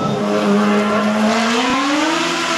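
Single-seat race car at a hill climb in Hérenguerville, revving hard as it passes close by, its loud engine note rising steadily in pitch with a brief tyre squeal near the end.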